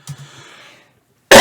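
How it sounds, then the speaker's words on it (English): A single sharp cough bursts in loud and close after a short quiet gap, with faint room tone before it. "I think I'm getting distracted with the cough"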